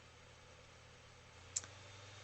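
A single soft computer mouse click, close and brief, against a steady low background hum.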